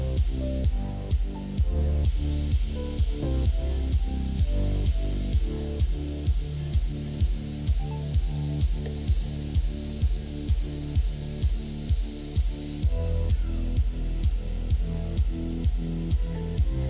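A CNC machine engraves a diamond texture pattern into steel with parallel tool paths at plus and minus 30 degrees, a steady loud spindle whine broken by a fast even pulse of cutter passes, close and continuous, with no voices.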